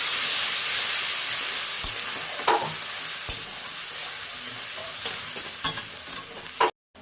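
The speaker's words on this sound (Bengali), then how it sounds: "এবার কষিয়ে নেবো ভালো করে মশলাটা" Masala paste of ginger, chilli and tomato sizzling steadily in a pan while being stirred, with occasional scraping clicks and knocks of the spoon, recorded close up with no talking, while cooking a fish curry with potato and bottle gourd.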